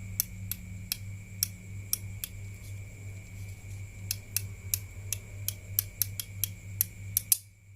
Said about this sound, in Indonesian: Anda putar arah ke kanan sampai berbunyi suara klik yang pertama